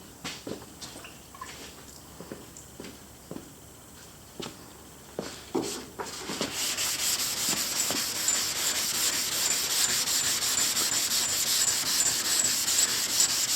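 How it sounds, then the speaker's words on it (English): Hand sanding on a Chevelle car body, first as scattered short scraping strokes, then a steady continuous rasping that grows louder and close up, with no talking. "We'll go ahead and sand on that just a little bit more."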